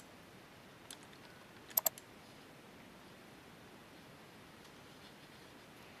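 Quiet, sparse clicks from a computer mouse and keyboard during dental CAD software work, one soft click followed by a quick pair of sharper clicks over a faint hiss of room noise.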